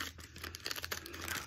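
Plastic wrapping of an MRE ration accessory pack crinkles and crackles in short bursts close by, a quiet rustling with no talking.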